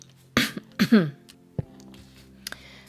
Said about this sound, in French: Pardon, je tousse